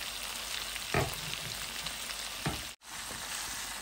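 Tilapia with potato and spices frying in a pan, a constant close sizzle and crackle with a couple of brief louder stirs or clatters and a short sudden drop to near silence.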